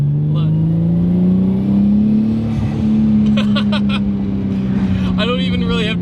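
A Nissan 240SX fitted with a 2JZ engine drives and accelerates, its engine drone rising and holding steady from inside the car, loud and continuous, while someone talks over it.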